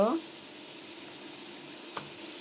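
Fresh raw beef, including a marrow bone, goes into a hot pan with garlic and ginger paste and sets off a steady, low hiss of sizzling. A brief voice sounds at the very start.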